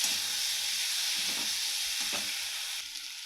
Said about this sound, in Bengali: মশলার সাথে আলুটা ভালো করে কষিয়ে নিয়েছি 2-3 মিনিট মতো